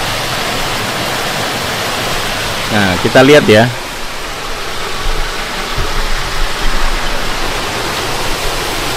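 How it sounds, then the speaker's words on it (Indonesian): Steady broadband rush of river water flowing outdoors in early morning, constant and fairly loud throughout, with a brief spoken voice over it near the start. "ini di sini ada suara air sungai ya"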